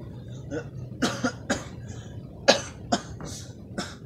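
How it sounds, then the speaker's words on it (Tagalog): A person coughs repeatedly, a series of short, harsh coughs spaced unevenly over a few seconds, close by. "Iubo daw mayo, iubo."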